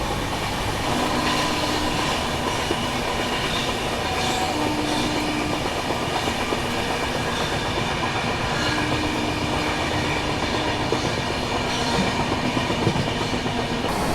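Garib Rath express runs at speed while overtaking the Andaman Express, a continuous heavy rumble of wheels on rails with rhythmic clickety-clack and faint squeals, steady and loud throughout.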